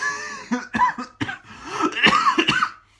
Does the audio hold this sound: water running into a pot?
no